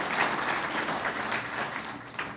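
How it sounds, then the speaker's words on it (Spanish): Short burst of congregational applause in a church service, moderately loud scattered clapping from the room that carries on steadily before tapering slightly. "Sí, dale un aplauso, esa es la palabra de Dios."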